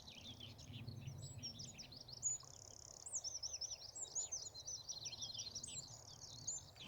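Birds chirp and trill continuously at a moderate distance over a soft, steady wash of the sea, early morning on the Cornish coast, with no voices.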